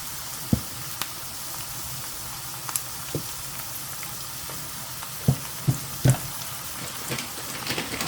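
Beef broth is stirred into a tomato paste mixture in a pan for shepherd's or cottage pie, with a soft steady simmering sizzle and occasional light scrapes and clinks of the spoon.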